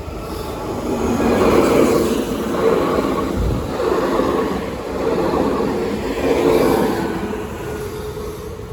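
A train pulls out of Toulouse Matabiau station, a steady low rumble of wheels and carriages rising and falling in waves, fairly close and continuous with no voices over it.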